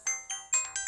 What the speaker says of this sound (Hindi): सुंदर का कॉल आ रहा है